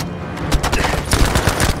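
Battlefield V gunfire crackles in rapid, loud bursts of overlapping shots, a quick fusillade over less than two seconds.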